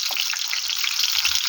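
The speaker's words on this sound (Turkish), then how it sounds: "Bunu kızartıyoruz böyle." Russian manti dumplings frying in oil, a steady bright sizzle and crackle heard close up and alone throughout.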